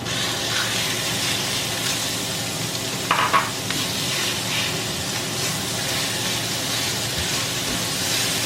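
A continuous, loud sizzle of ground meat frying in a hot pan fills the clip, with occasional light stirring scrapes and no talking.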